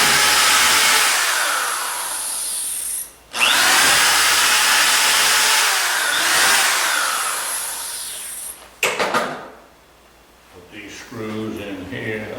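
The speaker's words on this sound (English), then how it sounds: "I'm going to just drill these 2." A power drill whines loudly through wood in two long bursts while building a wooden skiff, then stops and a few quieter clatters and movements follow.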